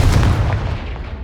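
A Confringo fire spell blasts a pile of debris in Hogwarts Legacy, landing as a loud, booming burst with a deep low-end thump that rolls off and decays over about a second.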